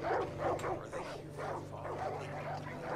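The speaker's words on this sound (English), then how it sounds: "Ooh, those dogs are fighting." Dogs bark, yip and whimper in a tense scuffle within the video game Far Cry 5, steady and fairly close throughout, mixed with in-game ambience.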